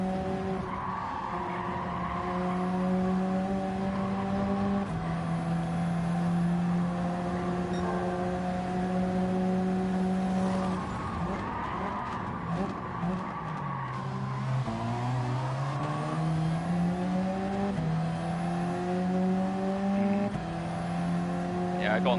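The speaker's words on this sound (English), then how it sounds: "Seeing if second gear could handle full throttle." A race car engine holds full throttle in second gear in Gran Turismo 7, a loud sustained tonal drone that dips and climbs in pitch through corners, with faint tire squeal and a voice talking over it.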